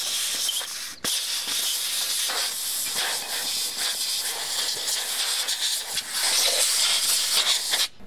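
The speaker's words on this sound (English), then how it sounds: "I'm using compressed air to give the gearbox an initial clean" Compressed air hisses in loud, sustained blasts across the old Tecumseh Peerless 5-speed manual gearbox of a 40-year-old British mower, cut by brief pauses as the nozzle is released and squeezed again, with no talking.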